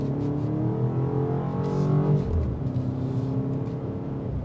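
A 2026 BMW X5 M Competition with a twin-turbo V8 accelerating hard from about 25 mph: a close engine note climbs steadily for about two seconds, then drops and keeps pulling. There is no talk.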